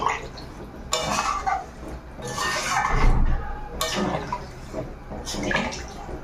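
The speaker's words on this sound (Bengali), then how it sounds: "এবার জল দিয়ে দেবো বেশি দেবো না মানে একটু হালকা ঝোল রাখবো" Water poured into a pan of potato and flat beans makes bursts of splashing and sizzling, with clinks of utensils and a voice speaking faintly in between.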